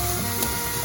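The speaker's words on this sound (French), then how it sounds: "je vais faire revenir un petit peu avec les oignons et l'ail" Onions and garlic sizzle while frying in a pan, a dense, steady crackling hiss that fills the short moment without a break.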